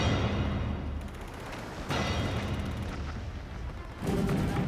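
Heavy German shellfire and gunfire pound against a ship's hull in a dense, continuous roar, with booming blasts punching through near 2 and 4 seconds, loud and close.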